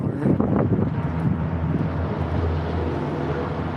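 Wind blowing outdoors, buffeting the microphone with a loud, steady low rumble and gusty roar that carries on throughout without pause.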